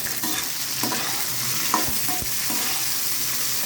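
Onion and okra sautéing in a pan for okra and drumstick sambar, a steady close sizzle with scrapes and clinks of a stirring spoon throughout, no talking.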